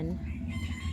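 A hen clucks in a rural garden on a province farm, a steady low clucking close by, with other chickens including bantams around and a voice talking over it.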